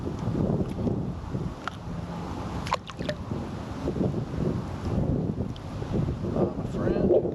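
Wind gusts across a marsh creek in winter, a steady broadband rush with buffeting against the microphone, continuous and fairly close throughout.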